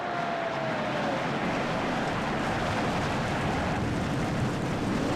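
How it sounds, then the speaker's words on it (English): A field of 42 race car engines fires up together at Indianapolis for the Brickyard 400 in a stock car racing video game, forming a dense, steady, loud roar that holds for the whole stretch. "As the 42 cars come to life"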